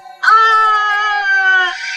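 A man in a horror cartoon story lets out a sudden, loud, high-pitched scream of terror. It breaks in abruptly and is held for about a second and a half before it fades, with no talk around it.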